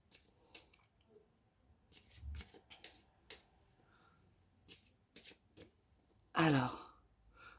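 Tarot cards being shuffled and handled in scattered soft riffling and tapping bursts, with one louder flurry of cards near the end. The room is otherwise quiet.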